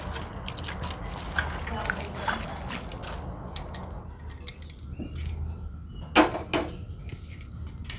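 Cut cauliflower florets washed under water, soft dripping and trickling with occasional splashes and small clinks, close and moderately quiet, with a person talking at times.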